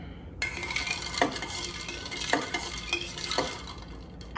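A spoon stirs an Evolved Revolver cocktail in a glass, making a continuous swirling rush with a soft clink roughly every second, close and alone.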